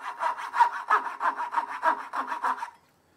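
Hand saw cutting out dovetail waste in a wooden board: about a dozen steady back-and-forth rasping strokes at close range, rhythmic and even, then stopping abruptly.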